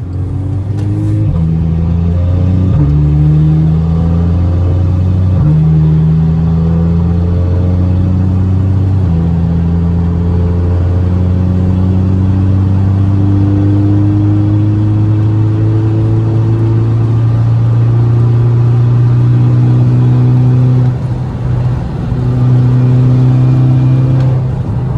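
A Ford Focus RS in automatic mode with a troubled gearbox, the engine droning loudly inside the cabin as it climbs and drops through the gears, steady and continuous with no talking.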